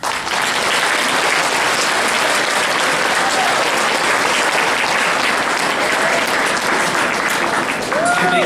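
An audience applauds after a student candidate's campaign speech at a school election event, steady, dense clapping filling the room for the whole stretch without letting up.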